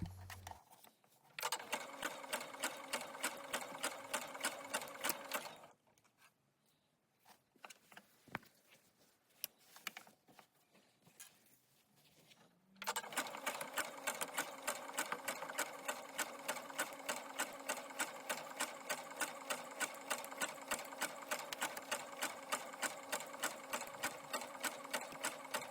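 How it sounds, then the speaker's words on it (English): Sewing machine stitching an elastic waistband onto shorts fabric, running in steady rapid bursts, loud and close, with a pause mid-clip before stitching resumes continuously; no talk. "stretch it as you sew so that it matches the length of the fabric that you're attaching it to"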